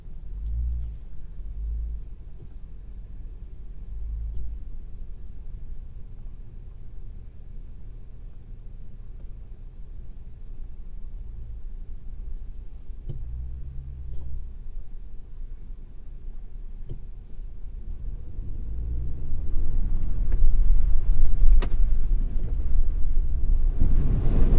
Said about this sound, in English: we did come across a couple other puddles that we decided to drive through